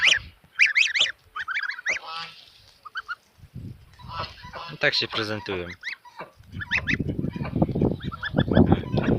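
Geese, including white geese, honk loudly and repeatedly close by, mixed with clucking farm fowl, while someone speaks briefly amid the calls.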